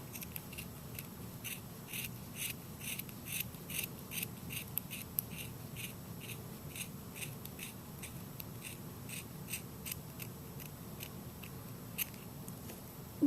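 Dull scissors snip through yarn repeatedly in a steady, quick rhythm, each crisp cut close and distinct, continuing for several seconds without talk.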